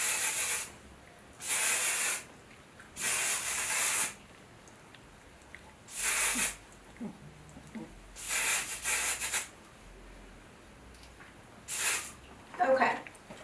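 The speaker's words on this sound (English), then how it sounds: "So I'm going to take them on one side and just spray them." Hairspray hisses in short bursts onto freshly curled hair, about seven separate sprays of one to two seconds each with brief pauses between them, close and fairly loud, with faint movement sounds between the bursts.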